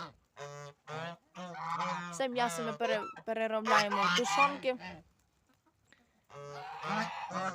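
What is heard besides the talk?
geese honking in a village yard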